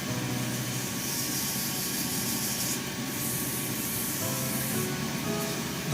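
A wood lathe spinning while a shaving brush blank is sanded, giving a steady, broad hissing whoosh with a low motor hum beneath, continuous and close, no voices.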